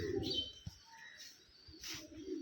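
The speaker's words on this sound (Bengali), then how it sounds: "কবুতর ঘাস খাইতাছে, ধান খাইতাছে।" Pigeons cooing softly at a farmhouse during rain, a few low throaty coos with faint chirps and a brief flutter, fairly quiet and close, no talking.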